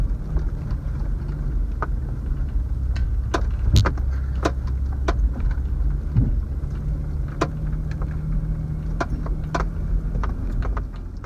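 An off-road 4WD grinds up a hill climb near Tumut and Batlow, its engine a continuous low rumble under scattered sharp knocks and clunks from the rough track and rattling cabin.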